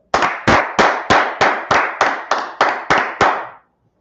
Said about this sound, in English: Clap it up for the Lord.